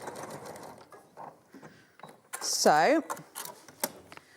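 Sewing machine stitching a hidden slip pocket: a short, mid-loud whirring run of stitches rising and falling in pitch, set among low talk and small handling noises at a sewing table.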